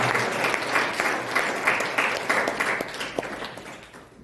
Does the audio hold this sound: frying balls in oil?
no